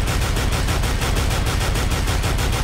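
Rapid bursts of FAMAS rifle fire in Counter-Strike: Global Offensive, loud and dense with closely spaced repeating shots across the whole stretch, alone without talk.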